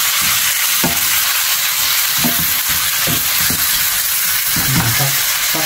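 Pork sautéing in a pan for spicy Filipino binagoongan, a steady loud sizzle with repeated scraping stir strokes and utensil knocks throughout, no talking.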